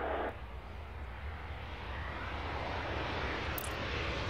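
A big jet's engines roar steadily during takeoff in the Airport Madness flight-control game, a broad sustained rumble that stays loud and even throughout, with no talking.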